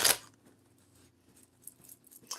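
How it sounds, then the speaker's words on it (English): Oracle cards are shuffled by hand, giving a brief loud riffle at the start followed by soft papery rustles and light clicks, with no talking. "I'm shuffling the Oracle when I'm supposed to be shuffling the tarot"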